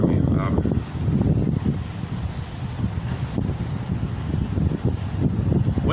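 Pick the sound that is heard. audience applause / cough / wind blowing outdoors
wind blowing outdoors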